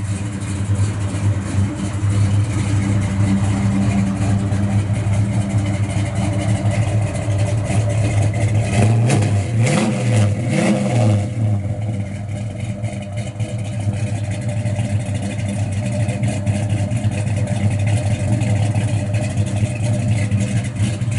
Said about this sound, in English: Super tough sounding car, I tell you. Yeah, these Mopars, they just have a sound all on their own.